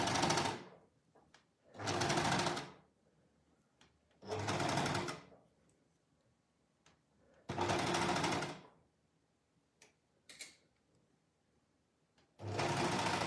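A sewing machine stitches fabric for baby booties in several separate bursts of rapid, steady whirring, each a second or two long, with quiet pauses between them and faint handling sounds, close by and without talk.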